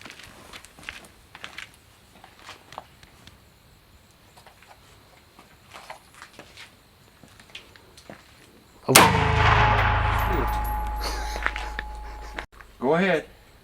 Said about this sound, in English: Go ahead. Shoot 5 times.